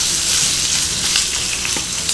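Chicken pieces searing skin side down in a pan of shallow oil over medium heat, a steady bright sizzle with small crackles and pops throughout, close and fairly loud, no voices.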